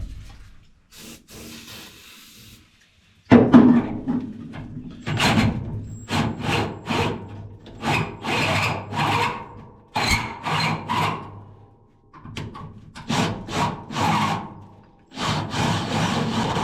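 A 1 7/8 inch hole saw chews through metal in a Datsun 280Z, loud grinding bursts starting abruptly and running in uneven pulses with short pauses between cuts, close and harsh.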